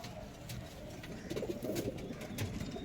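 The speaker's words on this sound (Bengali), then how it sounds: "পায়রাটা খুব ছটপটে পায়রা, হাত থাকছে না" A restless pigeon held in the hand gives low cooing close by over a steady background hum, with faint soft rustles and no speech.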